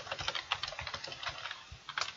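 Rapid keystrokes on a computer keyboard while entering an email address into a website builder form, a quick uneven patter of close, crisp clicks with no talking.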